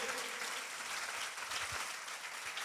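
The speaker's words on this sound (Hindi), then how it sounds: "अगर ये तालियां यीशु मसीह के लिए है तो एक बार इतनी जोरदार होनी चाहिए" A church congregation applauds during a Palm Sunday sermon, a short burst of steady clapping heard faintly at a distance.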